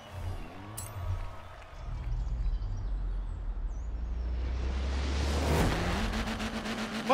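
A 1965 Mini Cooper S in Forza Horizon 4 revs its small engine toward an 8800 rpm limiter, a buzzing tone that climbs and holds near the limiter, loud and close.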